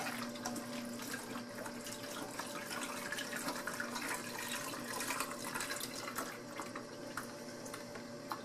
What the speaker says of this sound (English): Add the water up on top.